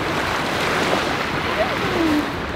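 Waves washing against a shore on an Atlantic salmon fly-fishing outing, a steady broadband surf wash mixed with wind noise, with no clear talk.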